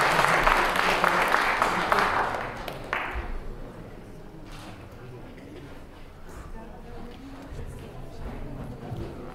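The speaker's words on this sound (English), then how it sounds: "Can we give the volunteers a round of applause?" Audience applause for volunteers at a science experiments show: loud, dense clapping for about three seconds, then it quickly dies away as a presenter's voice carries on over a quieter room.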